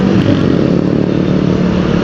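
A big, expensive motorcycle passing on a Jakarta street in the evening, a loud, close, continuous engine roar with rough low rumble throughout.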